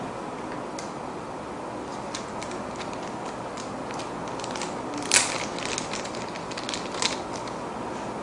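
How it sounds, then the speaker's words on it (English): A battery is inserted into a Samsung PL10 compact camera, with faint small plastic clicks and ticks, one sharper snap midway, over quiet room noise. "Let's put the battery in."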